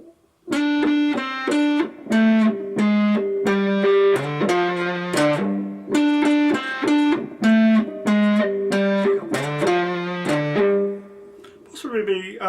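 A distorted electric guitar playing the intro riff of a song alone, with choppy repeated notes and short chords in a driving rhythm, close and loud.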